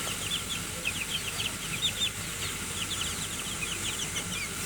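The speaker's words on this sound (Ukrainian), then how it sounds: "Ось наші курчатка вже підросли." Young chickens clucking softly in short repeated bursts over a low background hum, somewhat distant and steady throughout.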